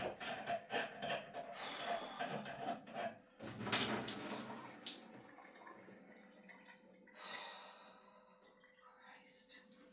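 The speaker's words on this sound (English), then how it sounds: "stopped the water from just spraying out of the actual end of the faucet, just not the base of the faucet" Water sprays and hisses from the base of a leaking faucet, a fairly faint rushing stream that runs throughout with brief surges and a few knocks, recorded close up indoors.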